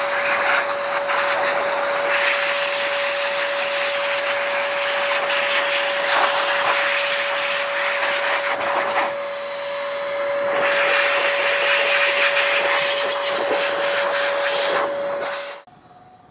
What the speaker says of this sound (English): We're gonna hold the fan for the CPU and the GPUs when we blow it out